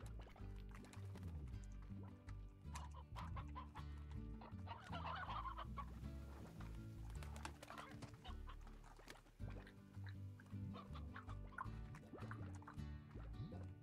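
Hens cluck repeatedly in the video game Slime Rancher, set against a steady bed of game music and liquid dripping effects, with no talking.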